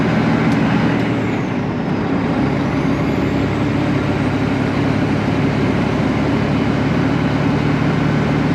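A truck, empty or very lightly loaded, climbs Fourth of July Hill with a steady low engine drone that stays loud and even throughout, heard from nearby with no talking.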